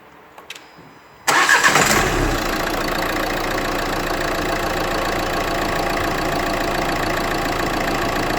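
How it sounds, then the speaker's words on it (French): A car engine cranks and catches after an oil change, bursting loudly from near silence into a rough start, then settling into a steady close idle that continues for several seconds. "un petit coup de démarreur pour remplir le filtre et faire le niveau"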